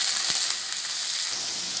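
Onion, garlic and curry leaves sauté in hot oil for a prawn and cauliflower poriyal, giving a steady close sizzle with a brief crackle, heard alone with no talk.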